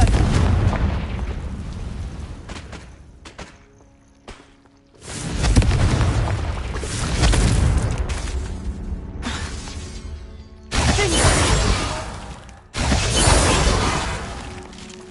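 Confringo spell explosions in the Hogwarts Legacy video game make loud, booming fiery blasts with a crackling, shattering tail. The bursts come repeatedly over a steady rumbling background, with a short quieter gap in between.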